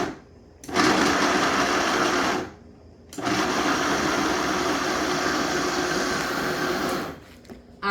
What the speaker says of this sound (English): you blend it until it becomes a nice thick creamy paste